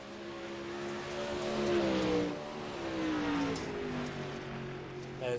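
A dirt late model race car running laps at Knoxville, its engine whining and rising and falling in pitch as it passes, moderately loud and fairly close.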